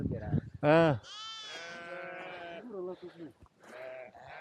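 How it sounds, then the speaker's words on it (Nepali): Sheep bleat loudly and close by, a quavering cry repeated a few times, with a voice talking in between. "कति भेडा"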